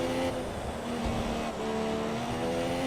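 F1 race cars in the video game F1 2017 at the Russia round brake hard, with high-pitched engines droning loudly and shifting down in pitch under tire noise and no talk.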